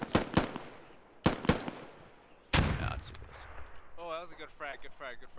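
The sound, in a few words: gunfire in the video game Squad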